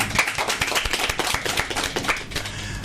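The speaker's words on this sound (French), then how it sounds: "c'est avec ces applaudissements très chaleureux" A warm round of applause comes from an audience at a school-related broadcast event, a dense, quick patter of hand claps at moderate, fairly quiet level with no speech.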